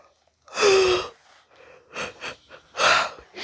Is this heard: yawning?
yes